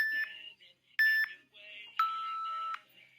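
A workout interval timer beeps three times in a home exercise session, each tone a clean electronic beep, the last one held longer, loud and alone against silence.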